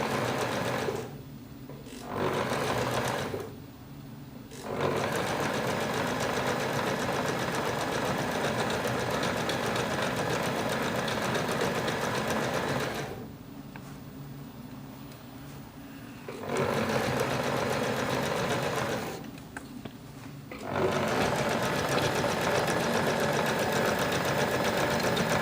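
Sewing machine stitching along the edges of a fabric bag, running in long steady bursts with several brief pauses between seams, close and loud.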